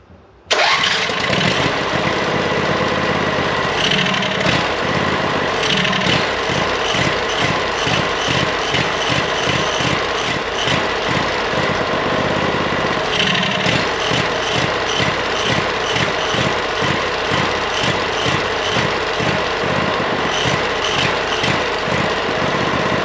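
An engine catches and runs steadily after being fed throttle and fuel, a loud, close mid-pitched idle with a regular pulsing chug that continues without a break.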